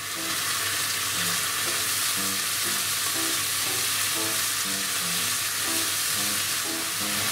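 Japanese radish pickles sizzle steadily in a pan over high heat as their moisture cooks off, a loud, continuous frying hiss with occasional stirring scrapes, no voices.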